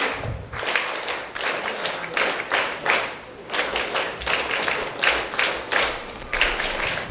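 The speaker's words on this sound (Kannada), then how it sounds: "ಎಲ್ಲರೂ ಕೂಡ ಜೋರಾದ ಚಪ್ಪಾಳೆಯೊಂದಿಗೆ ಇವರಿಗೆ ಸಪೋರ್ಟ್ ಮಾಡಬೇಕು." An audience at a charitable trust's girl awareness campaign event at a school claps in loud, repeated bursts of applause, rising and falling in waves across the whole stretch, close and dense.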